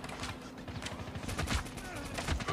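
Rapid gunfire bursts crackle through a Call of Duty Mobile battle royale match, a dense fusillade of shots with faint talk underneath.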